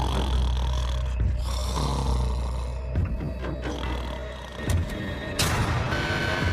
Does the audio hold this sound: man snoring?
yes